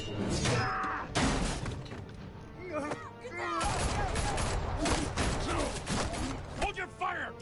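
Gunfire in Batman: The Telltale Series, with loud bursts of shots and impacts crackling across several seconds among shouting voices and clattering debris.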